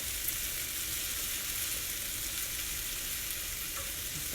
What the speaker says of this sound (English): I'm going to let this cook for about a minute.